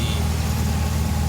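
Volkswagen Kombi engine labouring slowly uphill, a steady low rumbling drone close by with no break over a brief moment.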